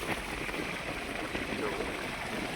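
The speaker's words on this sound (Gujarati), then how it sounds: "મોટર ચાલુ કરી છે. જો આટલું પાણી આવે છે" Water gushes from a running motor pump into a farm field in a village, a steady, full rushing wash that holds at an even level throughout without breaks.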